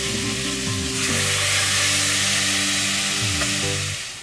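Skin-side-down pieces frying in fragrant oil for a rice dish, a loud continuous close sizzle under a low steady hum, without speech.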